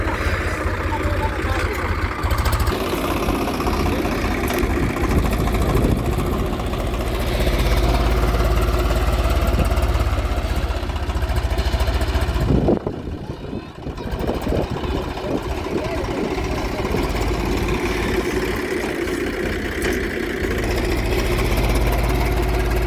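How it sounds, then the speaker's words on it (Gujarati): On a farm, a tractor drives over a pile of maize silage, its engine holding a loud, steady drone throughout that dips briefly midway while people talk nearby. "જાન્યુઆરી મહિનામાં જો હવે આ માથે ટ્રેક્ટર ચલાવે છે"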